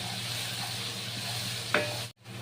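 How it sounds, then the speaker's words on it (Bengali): A spice paste with turmeric, salt and Kashmiri chilli powder fries in a pan for mustard hilsa, giving a steady close hiss with one brief clink before a momentary dropout. "মশলাটাও ভালো করে কষিয়ে নিতে হবে।"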